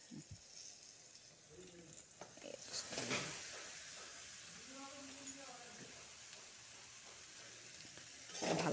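Amaranth stem greens frying with garlic in a pan, a steady broadband sizzle running throughout with a few stirring scrapes; a voice talks over the cooking in places.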